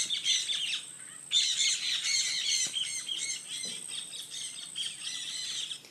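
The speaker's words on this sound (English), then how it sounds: "breeding noisy parrots and creating a significant noise nuisance" Noisy parrots in a large backyard aviary next door squawk and chirp in a constant, dense chorus, harsh and shrill, loud and unbroken with only brief dips.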